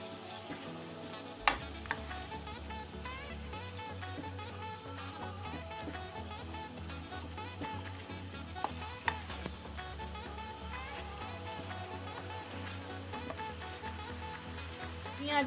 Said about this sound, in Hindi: मेथी को भी अच्छे से मिक्स करूंगी।